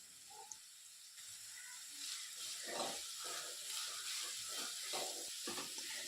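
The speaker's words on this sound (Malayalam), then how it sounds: "മൂന്ന് മീഡിയം സൈസ് സവാള ചെറുതായിട്ട് സ്ലൈസ് ചെയ്ത് ഇട്ട് കൊടുക്കാം ഒപ്പം തന്നെ മുക്കാൽ ടീസ്പൂൺ അളവിൽ ഉപ്പും ഒരു ടേബിൾ സ്പൂൺ അളവിൽ ഇഞ്ചി വെളുത്തുള്ളി പേസ്റ്റും കൂടി ചേർത്ത് വഴറ്റി തുടങ്ങാം" Sliced onions with salt and ginger-garlic paste sauté in a pan, giving a soft, steady hiss with scattered faint crackles and scraping stirs, quiet and close with no talking.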